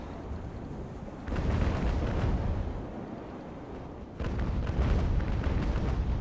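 Sailing ship cannons firing in the naval game Ultimate Admiral: Age of Sail, a dense rumbling barrage of booms that swells twice, distant and continuous without talk.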